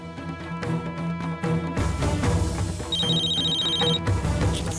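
A telephone rings with a steady electronic ringtone, mixed in under loud dramatic background music from a Hindi television serial.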